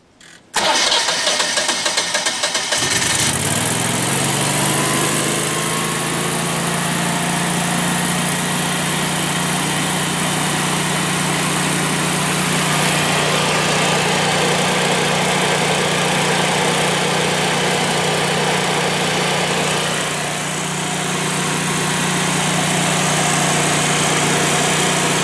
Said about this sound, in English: here's what a traditional backup generator sounds like.